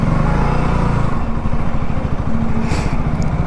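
A KTM Duke 200 motorcycle engine runs steadily near a workshop, a loud continuous rumble with a dense low throb and no break across the whole stretch.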